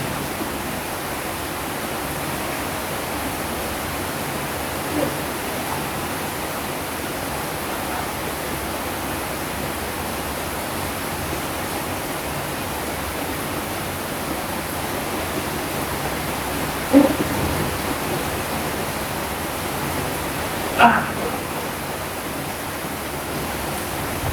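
Heavy rain pours in a steady, dense roar that holds constant throughout, with a couple of brief louder splashes or knocks near the end.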